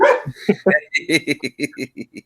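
A dog barks and yips in a quick run of about a dozen sharp, evenly spaced barks, close and loud.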